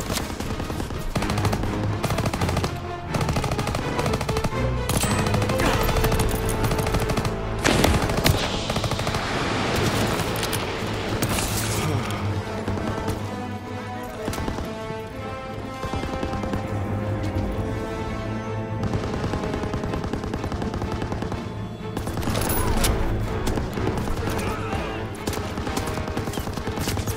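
Heavy, continuous gunfire from a World War II combat video game, with machine guns and rifles roaring dense and loud throughout and overlapping bursts and explosions filling the whole stretch.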